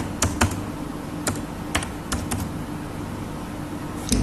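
Login credentials are typed on a computer keyboard as scattered, crisp key clicks in small bursts over a quiet steady hum, close and moderately soft, with no talk.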